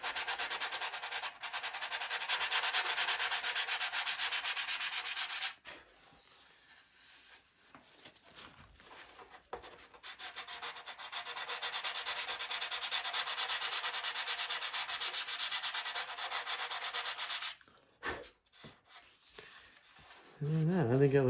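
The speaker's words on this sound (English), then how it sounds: "Might take some sandpaper and try to do it by hand a little bit." Hand sanding of balsa fuselage sheeting on a Carl Goldberg Tiger 2 model airplane, with long steady stretches of soft sandpaper rubbing, a brief pause between them, and a few light handling noises at the end.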